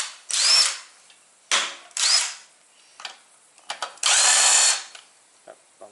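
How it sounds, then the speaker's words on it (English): Power drill in bursts during a coilover and lowering-spring install on an AE92 Toyota Corolla: several short whirring runs of about half a second, then a longer near, loud run of under a second, with quiet gaps between. "Since when does this turn into a drill?"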